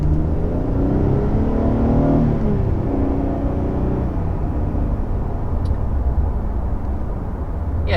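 2022 Nissan Frontier PRO-X pickup truck driving with a steady, close engine and road rumble, rising slightly in pitch as it accelerates early on, then settling into a constant cruising drone.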